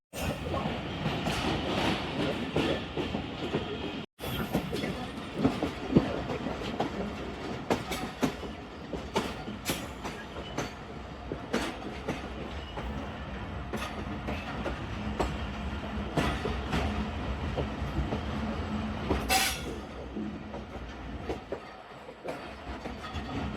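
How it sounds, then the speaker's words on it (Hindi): Tezgaam Express passenger train rolling slowly into Sahiwal station in Punjab, past mustard fields, with steady loud rumble, rhythmic clickety-clack of wheels over rail joints and occasional sharp metallic knocks throughout. "हम आहिस्ता आहिस्ता जिसको पंजाबी में कहते हैं रम के साहिवाल स्टेशन एंटर हो रहे हैं"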